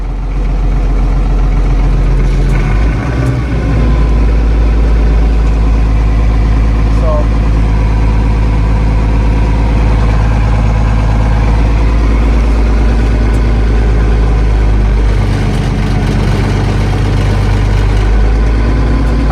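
An International Harvester 1586 tractor idles after a cold start, its engine a loud, steady, close low rumble throughout, with occasional faint talk underneath.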